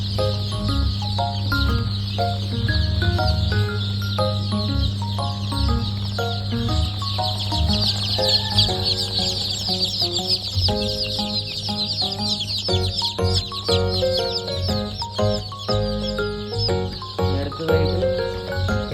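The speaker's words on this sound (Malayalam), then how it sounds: "എല്ലാം നാടൻ കോഴികളാണ്." Native breed chickens, including Thalassery country hens, cluck and call repeatedly in a busy chorus at a hatchery, layered over a constant low hum.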